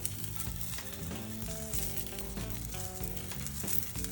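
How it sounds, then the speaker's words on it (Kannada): Oil sizzles steadily as an onion rubs it across a hot cast iron tawa, a continuous crackle close up. Faint tonal notes sit beneath it. "ಸೊ ಈ ಥರ ರಬ್ ಮಾಡಬೇಕು ಆಯಿಲ್."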